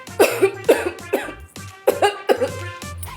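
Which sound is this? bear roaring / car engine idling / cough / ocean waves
cough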